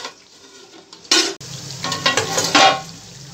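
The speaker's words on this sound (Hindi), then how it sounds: "फ्लेम को हाई कर दीजिए और इसको थोड़ी देर पकने दीजिए" Masala cooking in a covered pot over a high flame while preparing murga musallam, brief bursts of sizzling and stirring clatter with a sharp metallic knock, close and fairly quiet between bursts.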